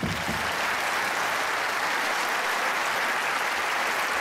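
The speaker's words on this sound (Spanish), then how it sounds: "les voy a pedir un gran, gran aplauso" A large audience applauds at a tribute event for a rock and roll musician, producing a loud, dense, continuous roar of clapping that stays at full strength throughout without breaks.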